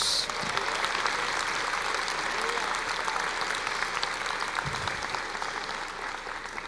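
A church congregation gives a long, steady round of applause, dense and even, heard at moderate volume with a faint voice or two in the background.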